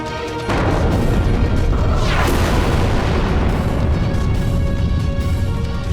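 A deep, sustained volcanic eruption rumbles and booms in a dramatic TV series scene, a loud continuous roar starting abruptly after a brief lead-in, with a sweeping crash layered in, no voices over it.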